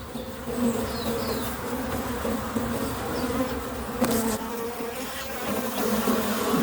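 Honeybees buzzing at an open beehive during hive inspection, a dense, steady, close swarm hum that continues without a break and without talk.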